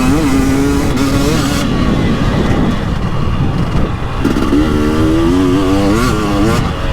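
KTM 300XCW two-stroke dirt bike engine on an Erzberg-edition machine, revving and bouncing through throttle changes while riding, loud and close throughout with no talk.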